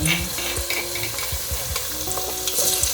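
Fresh ginger and garlic fry in a pot for a Ghanaian okra fish stew, a loud close sizzle with repeated scraping stirs of a spoon against the pot, no voices.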